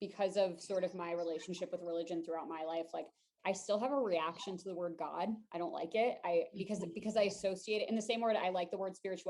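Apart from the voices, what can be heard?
No everyday noise stands out behind the speech.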